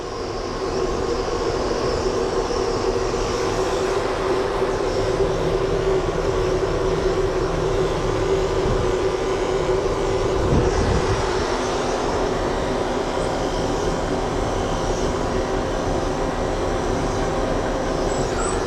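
A clipper vac grooming a dog, a loud constant droning motor hum with suction rushing steadily and close, with no talk.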